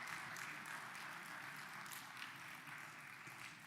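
Congregation clapping at a synagogue Shabbat morning service, a steady, dense wash of many hands filling the room, sustained at an even level without voices.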